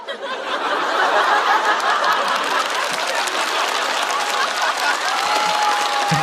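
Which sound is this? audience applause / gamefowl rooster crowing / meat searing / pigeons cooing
audience applause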